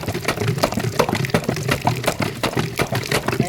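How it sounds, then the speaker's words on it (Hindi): An empty plastic disposal bottle pumped up and down by its cap end in a clogged drain gives rapid, rhythmic, close gurgling squelches of water, repeated steadily throughout. "खाली बोतल को अप डाउन करना पड़ता है तो नाली बिल्कुल साफ़ हो जाती है।"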